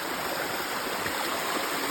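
Water flows through an irrigation channel in a forest as a steady, close, rushing stream with a constant broadband hiss and no voices.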